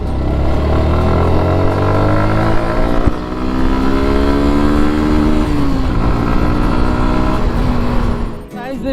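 A Suzuki Gixxer SF 150 BS4 motorcycle engine runs close and loud, its pitch rising through the gears in steady acceleration and dipping briefly near the end, with a rider talking over it.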